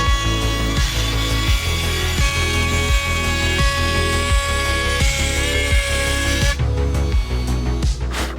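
A power tool cuts through plywood along a template during a camper van build, a loud whining drone that dips in repeated passes with a faster stretch of bursts near the end.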